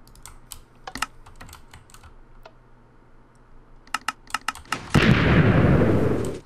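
A Minecraft hybrid sand stacker TNT cannon fires in a video game: scattered sharp clicks, then a loud, dense roaring blast that starts abruptly near the end and keeps rumbling until the clip stops.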